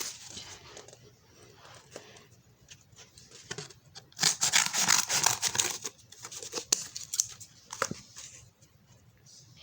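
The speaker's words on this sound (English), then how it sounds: "Let's cut a roof really quickly." Scissors cutting through a cardboard roof piece for a craft model: soft snipping, crinkling and tearing sounds, close and fairly quiet, busiest in the middle stretch.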